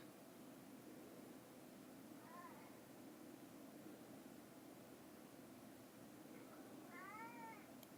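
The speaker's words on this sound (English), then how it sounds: "She is meowing at nothing." A pet cat meows twice, a short cry early and a longer rising one near the end, faint against steady room hiss.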